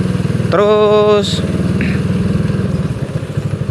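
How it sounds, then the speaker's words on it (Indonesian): A bored-up Yamaha Vega R motorcycle engine idles with a loose, noisy piston, giving a steady close chugging rhythm while someone speaks over it and a brief high whine cuts in. "Jadi ini berisik pistonku, minta ganti."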